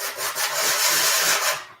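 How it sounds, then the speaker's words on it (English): Coarse sandpaper rubs back and forth across a metal tank surface in a continuous, close, loud rasping scrub with slight rhythmic swells. "Or sometimes I go back again with a little rougher sandpaper."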